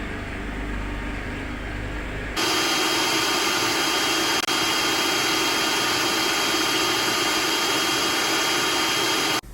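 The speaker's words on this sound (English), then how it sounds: "we are going to add the chickpeas now to the food processor and blend them by themselves just to make a paste" A food processor whirs loudly and continuously, blending chickpeas into a paste, kicking in after a couple of seconds of quieter motor hum and running steadily to the end.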